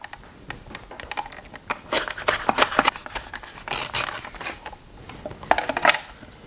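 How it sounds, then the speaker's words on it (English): Radishes are run across a mandolin slicer in a kitchen, giving a quick series of crisp, scraping slices in irregular bursts, close and fairly loud, with small taps and rustles in between. "run the knife or run them through the mandolin"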